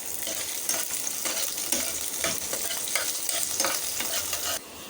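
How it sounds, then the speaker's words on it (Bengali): Onion and dried red chili frying in oil in a pan, with a steady sizzle broken by repeated close spatula stirs and scrapes in an uneven rhythm. "তেলের মধ্যে দিয়ে দিয়েছি পেঁয়াজ আর শুকনো মরিচ। এখন এগুলোকে একটু ভালো করে ভেজে নেব।"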